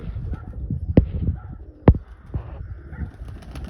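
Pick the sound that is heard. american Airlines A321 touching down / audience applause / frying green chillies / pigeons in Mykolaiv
pigeons in Mykolaiv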